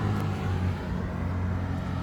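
Steady road traffic rumble from a busy main road beside a car dealership, a continuous low drone of passing cars at moderate loudness with no talk.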